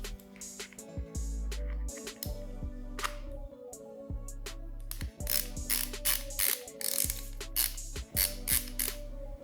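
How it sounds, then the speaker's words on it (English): A socket snapping onto a Facom 1/2 inch ratchet with a quick-release push button, giving close, repeated metallic clicks and ratcheting clatter in short bursts across the clip, with no talking. "Let's try some socket on it."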